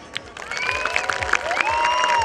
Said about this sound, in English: can we have a louder applause, please?